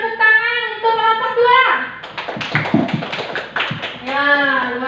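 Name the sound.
applause for group 2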